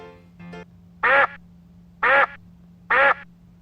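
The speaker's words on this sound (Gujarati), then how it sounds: "ડક એટલે બતક" A duck quacks three times, loud and nasal, evenly spaced about a second apart, with a faint hum underneath.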